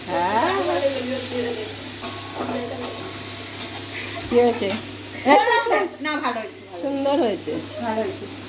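Momo sizzle and fry in a pan as a metal spatula stirs and scrapes them, the close crackle rising and falling with each stir while several people chat over it.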